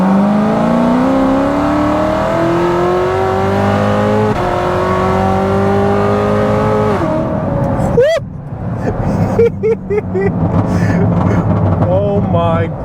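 A 900hp Corvette C7 ZR1 pulls hard in third gear, its engine note climbing loud and steady for several seconds before a sharp shift. Quieter, uneven engine noise and brief chirps follow.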